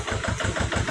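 A mini tractor engine runs on a farm, a close, steady mechanical chug with a regular pulsing rhythm and no voices.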